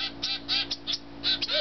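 Hand-fed zebra finch and Gouldian finch chicks, about eight weeks old, giving repeated high, thin begging calls in short bursts, close and fairly loud over a steady low hum.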